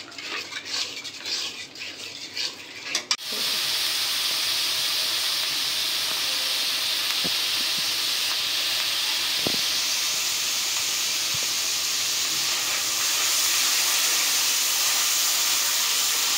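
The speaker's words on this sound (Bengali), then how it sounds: "এখন মশলাটা ভালো করে কষাই নেব যতক্ষণ না তেল উপরে আসে" Masala frying in mustard oil for a fish curry makes a loud, even hiss that carries on throughout, with a few faint clinks of a spatula against the pan after a brief rattle at the start.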